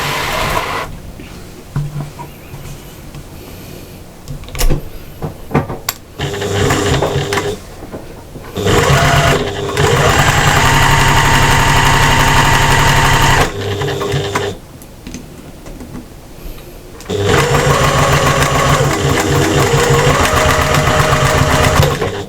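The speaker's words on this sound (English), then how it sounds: "Nice strong stitches again," A sewing machine stitches the lining of an overnight bag, running loudly in several long steady whirring runs broken by brief stops and softer mechanical clatter.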